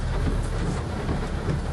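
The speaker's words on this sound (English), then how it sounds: "weather radar images show heavy rain accompanied by dangerous hail" Heavy rain pours steadily through a severe storm with dangerous hail and flash flooding, a dense continuous roar with low thunder-like rumble underneath, loud and close throughout.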